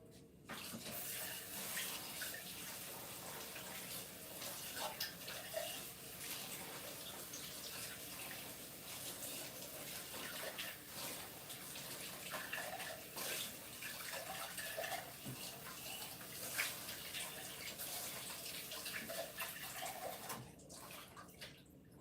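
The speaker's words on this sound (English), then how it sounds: "let me rinse this out" Running tap water splashes steadily into a container being rinsed out, a close, continuous rushing gush with small shifts in tone as the vessel moves, and no talking.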